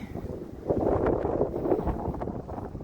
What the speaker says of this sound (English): the wind just kicked up